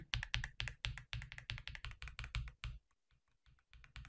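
Close-miked typing on an Ajazz AK820 Pro mechanical keyboard: a fast, steady run of crisp key clacks that thins out into a few scattered presses toward the end, with no talking.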